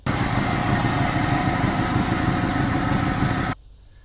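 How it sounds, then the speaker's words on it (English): Idling Mazda motor with stopped-up hydraulic lifters runs loud and near, a rapid ticking layered on a steady rumble that stops abruptly near the end, followed by quiet room noise; no speech. "What you're hearing is neglected oil changes and stopped up hydraulic lifters"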